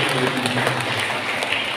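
A church congregation at Sunday Mass clapping together, a steady wash of applause with a voice speaking over it.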